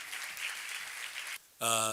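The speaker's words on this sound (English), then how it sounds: "They deserve a bigger round of applause than that." Audience applause at a lunch gathering, a steady patter of clapping for over a second that breaks off briefly before a loud, harmonic voice cuts in.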